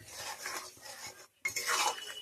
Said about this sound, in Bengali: এবার একটুখানি নেড়ে নেবো।